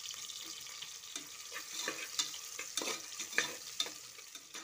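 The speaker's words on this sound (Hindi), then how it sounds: "बारीक से स्लाइसेस कट कर ली हूँ ऑनियंस को। ऑनियंस को ब्राउन होने तक हमें इसे फ्राई करना है।" Thinly sliced onions fry in a pressure cooker, a soft steady sizzle broken by intermittent scraping stirs, fairly quiet and close with no voices.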